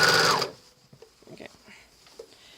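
A Juki serger stitching off fabric, a loud close mechanical whir that runs briefly and then stops abruptly, followed by faint handling clicks.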